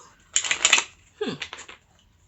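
A deck of playing cards is shuffled up close in two quick riffling bursts, the second ending in a short flutter, with no speech over it.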